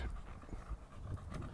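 A big bully breed dog pants heavily outdoors on a walk, rapid close huffing breaths, loud and continuous, with no talk.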